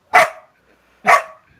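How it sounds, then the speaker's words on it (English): A dog gives two loud, close barks about a second apart, each short and sharp, with quiet pauses around them. "Oh, she's growling at me and everything."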